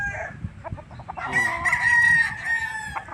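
White-legged Sweater gamefowl at a game farm in Tagaytay City, with nearby hens clucking in short bursts before a rooster's loud, drawn-out crow rises over them.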